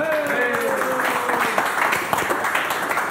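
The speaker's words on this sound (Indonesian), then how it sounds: "Tepuk tangan." A studio audience claps in a dense, steady burst for a few seconds, with a faint voice or musical tone trailing through the start.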